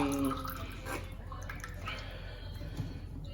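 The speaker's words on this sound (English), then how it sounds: "I'm going to pour this pack into my blender and blend it again." Blended apple juice pours from a pack into a blender, a steady liquid splash and dribble heard up close with faint background noise and no talking.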